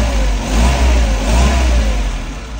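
A Mazda E1600 Bongo ute's old engine idles loud and close, a steady low rumble with a slight uneven rise and fall in pitch, running alone without voices.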